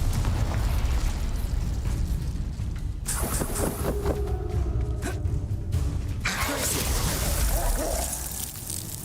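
Confringo explosive spell blasts in Hogwarts Legacy, with loud bursts and crackling booms amid ongoing game noise, dense and close.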